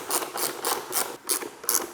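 Ratchet wrench with a Torx 25 bit clicking as it backs out the single headlight bolt on a KTM Duke 890, sounding as about six short, evenly spaced bursts of close mechanical ratcheting with no talk.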